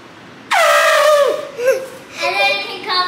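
A child imitates the trumpet of the elephant Dumbo with a loud, sliding, brassy squeal that bends and wavers, followed by giggling vocal noises, close and in a quiet room.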